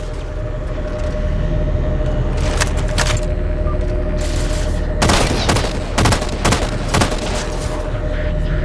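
Gunfire in the Halo video game during a gondola ride under attack: sporadic cracks at first, then a dense burst of rapid automatic shots in the second half, loud over a steady droning hum.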